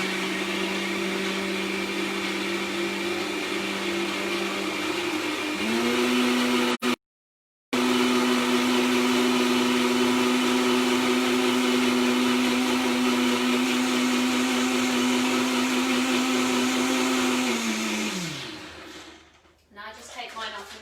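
Blender whizzing mango lime vegan tart filling until smooth, a loud steady motor whine that briefly cuts out, restarts and runs on before spinning down near the end.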